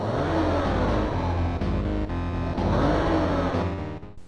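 Synthesized engine of a Chevrolet Corvette in an Amiga racing game, a loud continuous buzzy drone that rises in pitch twice as the car revs, then fades at the end.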